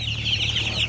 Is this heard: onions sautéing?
no